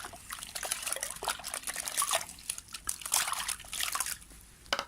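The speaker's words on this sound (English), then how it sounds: "now that you've put your pot in soap, just wash it out" Water splashes and trickles while a soapy plant pot is rinsed out by hand, steady wet sloshing and dribbling close up with no talking.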